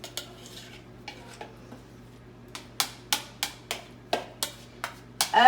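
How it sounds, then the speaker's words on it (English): A spoon stirs food in a cooking pot in a home kitchen, starting with scattered soft scrapes and clinks, then settling into a steady run of sharp, close metallic strokes about three per second. "I'm not done stirring this."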